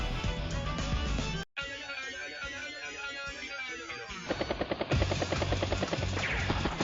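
Battlecopter helicopter unit in Advance Wars: Days of Ruin: a game sound of whirring rotor noise, then a brief cutout, followed by rapid rhythmic bursts of gunfire near the end.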